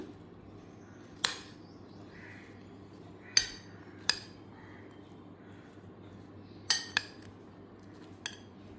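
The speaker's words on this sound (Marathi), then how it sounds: "आता हे सगळं मिक्स करून घेऊया." A spoon mixing raw mango pickle in a bowl gives a quiet scene with about six separate sharp clinks of metal against the bowl at irregular intervals, with no talking between them.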